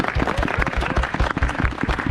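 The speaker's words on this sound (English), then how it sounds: "Everybody, a round of applause for Lady Claudia." A small group on a medieval walking tour claps for a volunteer named Claudia, a brief burst of close, distinct handclaps with quick uneven rhythm, loud and near, with no voices over it.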